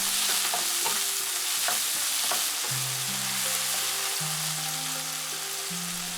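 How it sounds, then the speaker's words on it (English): Seasoned chicken fries in a pan with salt, sugar and ground pepper for Thai basil fried rice, a constant bright sizzle under repeated scraping stirs of a utensil against the pan, close and steady throughout. "The salt, the sugar, the ground pepper. Stir for 1 minute."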